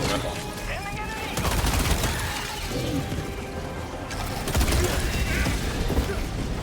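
Magnum revolver gunfire in the video game Helldivers 2, with heavy shots and dense in-game combat noise firing in a continuous barrage while voices talk over it.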